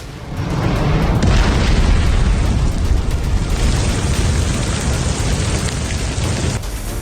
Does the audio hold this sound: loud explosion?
yes